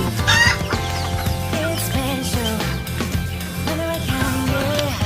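Native chickens cluck close by in a run of overlapping, repeated calls from several birds, loud and continuous, with no talking over them.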